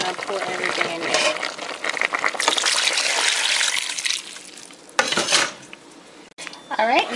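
Plantain-boiled water is poured into a pot of Haitian bouillon at close range, with splashing and trickling liquid mixed with clinks and scrapes of a utensil against the pot, in uneven bursts.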